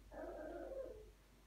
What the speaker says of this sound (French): Je suis désolée pour le chien.